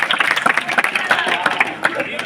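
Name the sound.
audience clapping for a birthday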